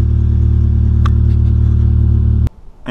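A car's exhaust gives a loud, steady, buzzing drone up close, holding constant for a couple of seconds before cutting off abruptly.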